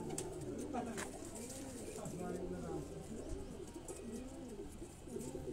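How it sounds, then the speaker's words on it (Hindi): Several pigeons on a rooftop coo in overlapping, repeated soft rolling calls, fairly close and continuous, with faint background noise and no clear talk. "ये कबूतर भी आप देखें दोस्तों"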